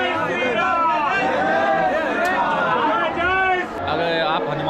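Crowd chatter fills the queue at the Hanuman Garhi temple in Ayodhya, a dense, continuous babble of many nearby voices with a few voices standing out closer.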